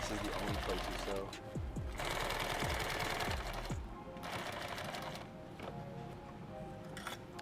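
A sewing machine stitches a canteen cover in bursts of rapid mechanical chatter, interrupted by short pauses, with a voice talking throughout.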